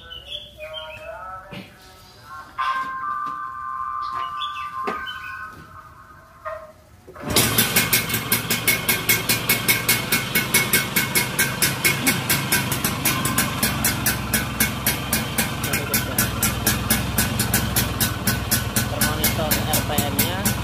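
A classic Vespa two-stroke scooter with fuel injection. A few faint clicks and a brief tone come before the engine starts suddenly, then it settles into a loud, fast, steady idle rattle that carries on to the end.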